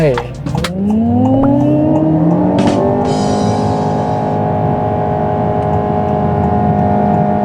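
Honda StepWGN e:HEV seven-seat hybrid family minivan accelerating hard to 100 km/h: a loud, close, steady drone whose tones climb and then hold as it builds speed, continuous throughout.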